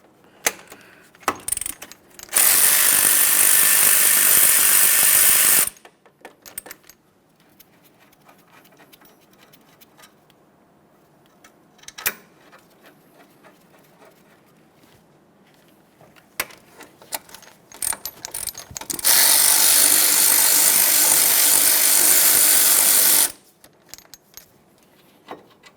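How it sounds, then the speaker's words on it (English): A ratchet removes the 17 mm caliper bracket bolts on a Kia Forte Koup during a front brake job, giving two loud, sustained mechanical bursts of several seconds each, separated by quiet stretches with faint clicks and handling noises. "We'll fully remove the upper and start it back in just a couple threads,"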